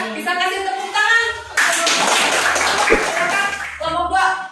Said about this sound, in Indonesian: Bisa kasih tepuk tangan.